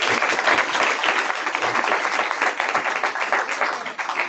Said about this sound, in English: but can we get a big round of applause for